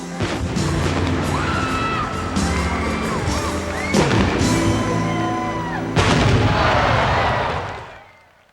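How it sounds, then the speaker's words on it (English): Fireworks set off after a late-night Braves baseball game in Atlanta boom in a steady barrage of loud bursts over a crowd, with bigger blasts standing out partway through before the din fades at the end. "fireworks."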